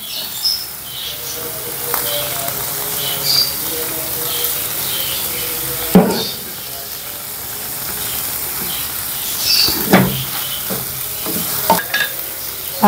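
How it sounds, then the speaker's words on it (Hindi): Chicken and mixed vegetables stir-frying in a pan over a full flame, a steady close sizzle with occasional louder clatters of stirring, no voices. "चिकन को थोड़ा सा ऐसे बस भूनने के बाद साथ ही जो है ना तमाम सब्जियां डाल दें। तो फ्लेम आपने फुल रख लेना है।"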